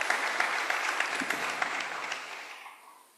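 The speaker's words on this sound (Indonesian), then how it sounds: "Tepuk tangan untuk Bapak BPKRI" Audience applause at an Indonesian government meeting in Bali, a dense steady patter of many hands that holds for a couple of seconds and then tapers and fades away.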